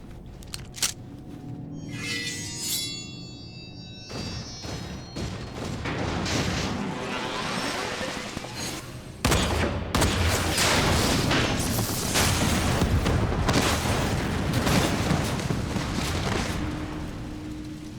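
Rapid gunfire and heavy explosions from a special bullet attack in the Final Fantasy XIV video game, a loud sustained barrage of booms and blasts with a sharp surge midway.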